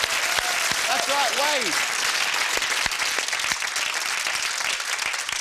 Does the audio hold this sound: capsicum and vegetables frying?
no